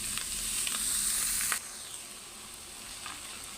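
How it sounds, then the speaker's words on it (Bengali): Fenugreek greens sizzle and fry in a pan with onion, a steady loud hiss that drops to a softer, quieter sizzle partway through, with faint stirring scrapes and no talk. "এটাকে ভালোভাবে ভেজে নেব। পেঁয়াজের সাথে ভালোভাবে মিশিয়ে আমি শাকটা দিয়ে দিব।"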